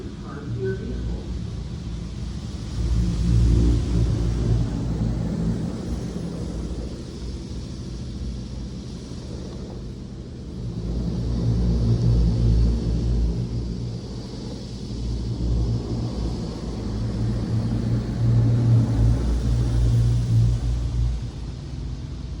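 An automatic car wash machine sprays sealant over a vehicle with a continuous rumbling hiss of water and machinery heard from inside the car, swelling and easing in slow waves.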